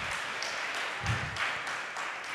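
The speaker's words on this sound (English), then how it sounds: "Can you kindly please give her a round of applause again?" An audience at a postgraduate welcoming event gives a speaker a round of applause, a quiet, steady wash of many hands clapping from some distance, continuous for a couple of seconds.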